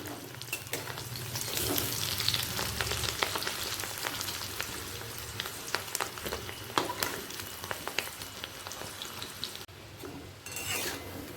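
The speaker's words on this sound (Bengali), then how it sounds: "একটা দিক লাল করে ভাজা হয়ে গেছে অপর দিকটাও উল্টে দিলাম" Fish roe fritters fry in hot oil with a continuous close sizzle, with occasional scrapes and clicks as they are turned over in the pan.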